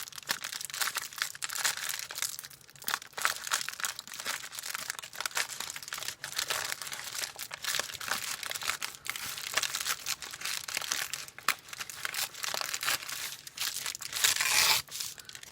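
Paper being torn by hand around its edges in a mixed media art project, a continuous close crinkling and ripping that runs on steadily for about fifteen seconds.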